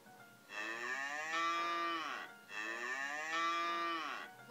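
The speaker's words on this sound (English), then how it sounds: "Hello, Mummy Cow." A cartoon cow moos twice in a row from a Baby Touch iPad game, two long, loud, drawn-out lowing calls separated by a short pause.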